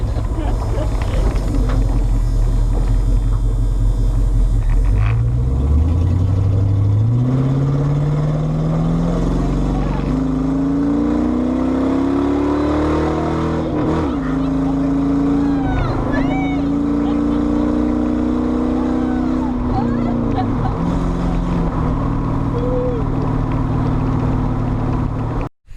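A loud engine roars from either an LS-swapped Buick or an old-school Dodge Dart. It drones close, rises steadily in pitch as it revs up, then holds a throaty rumble with brief throttle blips.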